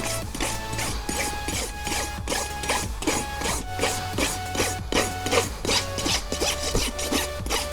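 A farrier's rasp scrapes across the hoof wall of a chronically laminitic horse in rapid, rhythmic rough strokes, roughly two per second, close and steady with no talk.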